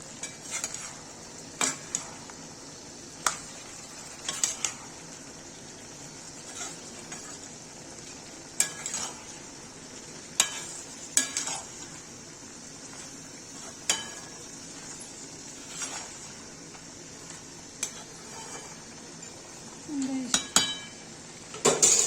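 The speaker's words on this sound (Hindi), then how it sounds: "गोभी भून के ऐसे डालेंगे हल्दी, लाल मिर्च, इसको चला देंगे" Fried cauliflower being stirred with turmeric and red chili for a dry aloo gobhi, a spoon scraping and clinking against the pan in scattered strokes over a low, steady pan hiss.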